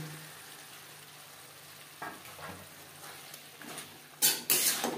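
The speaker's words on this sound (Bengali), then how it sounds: "মশলার সাথে শিম বেশ ভালো করে মিক্সড করে দেবো" Flat beans being stir-fried in spice masala, a low steady sizzle broken by a few stirring scrapes that grow louder toward the end, near and with no one talking.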